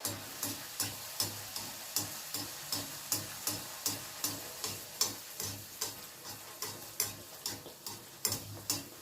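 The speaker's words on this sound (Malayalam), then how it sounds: "ഇനി നമുക്ക് എണ്ണ ചൂടാക്കി അതിലിട്ട് ചുട്ടെടുക്കാം" Puri frying in hot oil for a puri masala meal, with a steady sizzle punctuated by regular rhythmic bursts, close and moderately loud with no talking.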